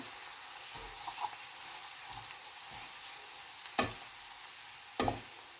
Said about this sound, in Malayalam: ഇനി ഇതിലേക്ക് നമുക്ക് ക്യാബേജും ക്യാരറ്റും കൂടെ എടുത്ത് വെച്ചിരിക്കുന്ന ഇട്ട് കൊടുക്കാം. ഇനി നമുക്കിതൊന്ന് മിക്സ് ചെയ്ത് കൊടുക്കാം.